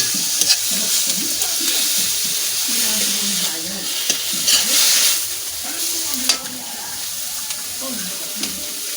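Homegrown kangkong, or water spinach, sizzles and crackles as it is stir-fried in a pan, with a constant frying hiss and occasional stirring scrapes, and a voice speaks quietly over it.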